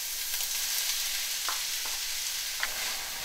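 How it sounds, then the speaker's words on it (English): Chopped white onion sizzling in olive oil in a pan, a loud steady hiss close up, with a few faint spoon taps and no talk. "So I have olive oil in our pan and I put in our chopped up white onion."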